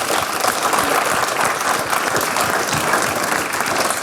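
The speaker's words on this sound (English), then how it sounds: "So a massive round of applause for everyone." Audience applause at a media industry awards ceremony, loud, dense and sustained clapping from a large room without a break.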